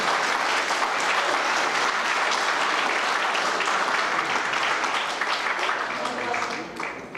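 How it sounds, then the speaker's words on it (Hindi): Loud, dense audience applause at a national education seminar, continuous and even for several seconds before tapering slightly at the end, with a little background voice. "जोरदार ताली बजाओ"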